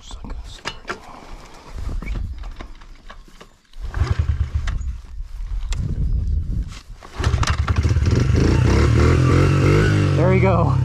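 Brand-new Honda 50cc motorcycle being kick-started: several rough, uneven kick and sputter bursts under nearby voices lead to a steadier running engine drone in the final seconds.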